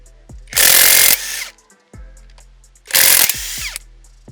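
Bauer high-torque impact wrench fires in two loud hammering bursts, each roughly half a second long, separated by quieter whirring and clicking between runs.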